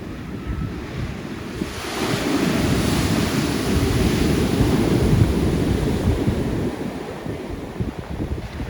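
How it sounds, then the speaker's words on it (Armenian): Pacific Ocean waves break and roll ashore in a loud, continuous roar that surges in the middle, with wind buffeting the microphone and no voices. "Սա մի մեծ ալիք է, հա։"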